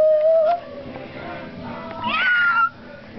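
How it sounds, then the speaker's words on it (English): A cat meows twice, a short call at the start and a rising, drawn-out meow near the end, with quiet room noise between. "Look at Kitty Kitty!"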